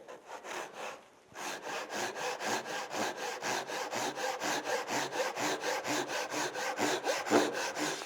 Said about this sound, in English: I could put that board in this bench hook and finish this cut this way.